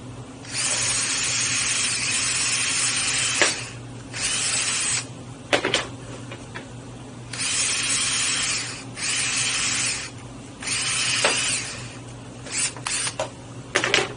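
An electric drill, starting to give out, whines in repeated bursts of several seconds each, separated by short pauses and sharp clicks, close and fairly loud with no talking, while a cat door is installed.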